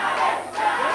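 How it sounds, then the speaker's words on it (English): Crowd roaring at a boxing bout, a loud dense wall of cheering voices that surges and dips briefly, close and continuous. "There the crowd goes."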